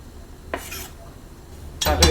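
Chopped green onions tossed into a dry frying pan before any oil, giving two short bursts of scraping, clattering stirring, the second louder and longer, with quiet room hum between.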